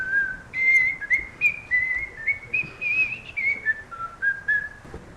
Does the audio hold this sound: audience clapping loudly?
no